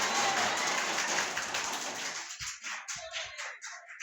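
A room of school students bursts into loud, dense applause, which fades within about two seconds into a few scattered claps and shuffles.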